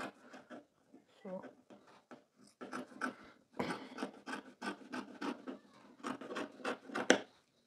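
Scissors snip through fabric while cutting out a bubu gown, a series of close, crisp cutting and rasping strokes in uneven bursts, with a voice speaking softly in between.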